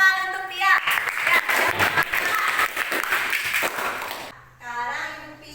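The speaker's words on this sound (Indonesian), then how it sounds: "Berikan tepuk tangan untuk Tia." Students in a classroom clap for a classmate in a burst of scattered applause lasting several seconds, with a voice speaking just before and just after.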